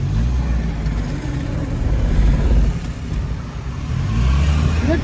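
Vintage Italian Fiat 1100 car being driven after ten years unused, its engine a low steady rumble that swells and eases with mild revving, heard close from inside the moving car.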